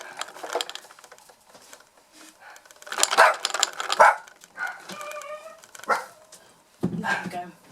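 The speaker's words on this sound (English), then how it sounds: "there's somebody at the door and now the dogs are barking." Several dogs bark indoors in short irregular bursts at someone arriving at the front door, some barks loud and close, others fainter, with a person speaking between them.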